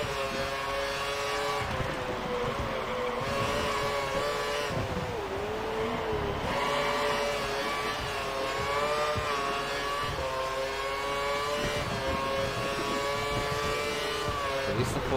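Formula 1 car engine at full throttle in the F1 2013 video game, a loud, high-pitched whine climbing and dropping through repeated gear changes, with someone talking over it at times.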